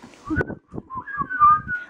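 A person whistles a bright, wavering tune in short melodic phrases while cleaning a bathroom, close and clear against a quiet background.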